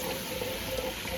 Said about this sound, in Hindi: इसको पानी में भिगोना है, गर्म पानी में